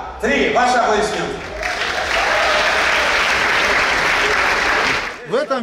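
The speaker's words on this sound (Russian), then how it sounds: "Ваши аплодисменты." An audience at an evening television show in Dagestan bursts into loud, sustained applause from many people, with brief talking before it starts and again as it fades.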